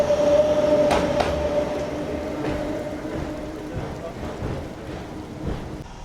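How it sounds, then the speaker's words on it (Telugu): A Gudur–Vijayawada MEMU train passes over a rain-soaked track beside flooded fields, a steady heavy rumble that fades slowly, with a few sharp metallic clanks early on. "గూడూరు విజయవాడ మెమో ట్రైన్ అది."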